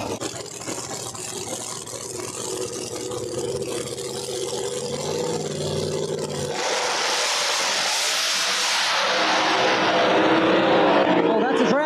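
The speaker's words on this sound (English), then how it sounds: "Well, that's a drag race." Drag race cars tear down the strip at Flying H Drag Strip during a Street Outlaws No Prep Kings event, a steady roar swelling into a loud, broadband blast as they pass, with talk beneath it.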